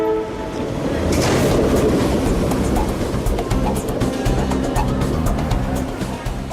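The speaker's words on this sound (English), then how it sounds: "Lots of trains come in the morning." A passenger train on an Indian railway during the morning rush hour, rumbling steadily and loudly with rhythmic wheel clatter on the tracks throughout, close by with busy station noise around it.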